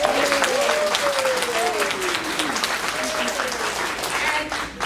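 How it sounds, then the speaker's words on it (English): An audience claps for staff members in a sustained round of applause, dense and fairly loud, with a voice and cheers carrying over the clapping. "could you please give them a round of applause?"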